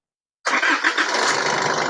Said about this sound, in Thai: เครื่องยนต์ติดแล้วครับ โดยไม่ผ่านตัวรีเลย์ครับ